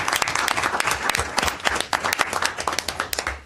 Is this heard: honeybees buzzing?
no